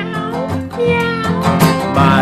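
A singing voice imitating a cat's meow within a children's farm-animal song, drawn-out melodic meows sung loudly over musical accompaniment.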